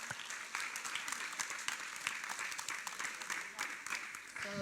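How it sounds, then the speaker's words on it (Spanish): Audience applause at a health congress welcoming Brenda Páez, a steady wash of many hands clapping at moderate distance, with voices mixed in. "en este momento vamos a recibir con un aplauso a Brenda Páez"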